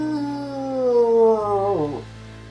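A person imitates a wolf howl with a sustained, wavering voiced cry that slowly falls in pitch and breaks near the end, fairly close and loud, with no other sounds.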